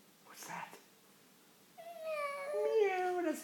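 A young child imitates a cat's meow with a rising, wavering vocal call, preceded by softer adult speech; the meow is close, drawn-out and fairly loud.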